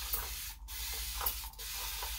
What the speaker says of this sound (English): So I did end up getting a new spray bottle from Natural.